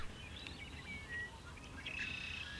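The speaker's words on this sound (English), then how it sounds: "the air was full of bird song" Birds singing on a prairie at evening on a hot summer day, several thin high chirps and short whistled notes scattered over a steady low background hum, faint and somewhat distant.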